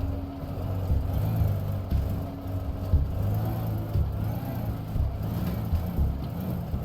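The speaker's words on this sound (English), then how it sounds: "I got a dump truck to which I connected the construction hut with a cable and tried towing the construction hut forwards" Dump truck in the game Teardown towing a construction hut on a cable, giving a steady low engine rumble and drone that carries on throughout at moderate loudness, with no talk over it.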